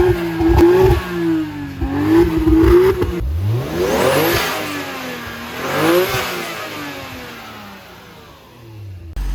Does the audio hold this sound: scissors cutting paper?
no